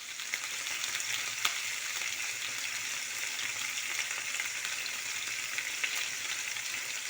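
Cordon bleu sizzling in hot oil in a frying pan, with a steady dense crackle and a few sharp pops as the pan is shaken, close and continuous with no voices.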